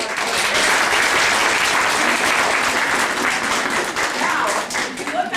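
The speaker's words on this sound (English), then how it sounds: "So if we can give a round of applause." Steady audience applause, many hands clapping continuously and loudly, with no clear voices standing out.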